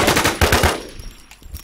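Rapid machine-gun bursts in the shooter game Infestation, loud and close, with a quick string of shots followed by a few scattered fainter pops.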